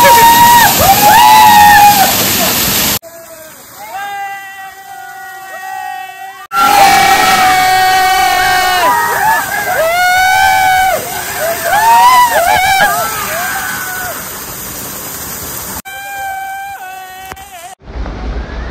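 People jumping and splashing in the pool below a waterfall on a Harishchandragad trek, loud rushing water under a crowd shouting and cheering, with bursts of voices over the roar.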